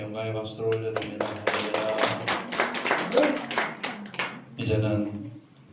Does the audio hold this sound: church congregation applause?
yes